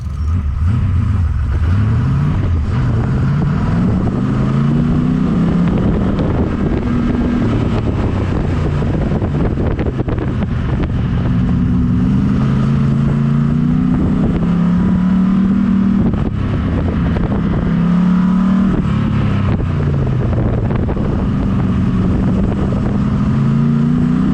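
An autocross car makes a timed pass with more rear grip, its engine loud and continuous, rising and falling in pitch through repeated acceleration and lift cycles with wind buffeting, and no talk.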